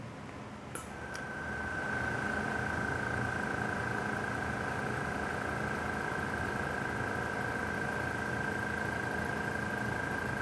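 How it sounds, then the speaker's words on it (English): A compressor left running in a craft workspace gives a faint, steady mechanical hum that holds evenly for about ten seconds and carries a thin, constant whine. "I forgot to turn off my compressor."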